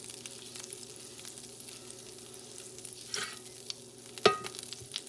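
Butter melting and sizzling in a pan heated a couple notches above medium for hoe cakes, a steady soft frying hiss with a brief clatter near the end, close and fairly quiet.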